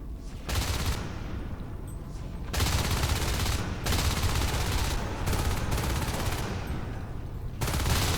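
Sustained rifle gunfire from the game Natural Selection 2, a competitive match, coming in long dense bursts with brief gaps between them, loud and continuous with no talk over it.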